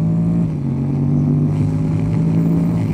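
A remapped Honda X-ADV 750 scooter's parallel-twin engine idles and revs steadily, producing a loud, continuous droning hum with a steady low pitch close to the listener.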